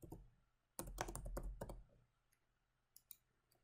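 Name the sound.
computer keyboard typing and clicking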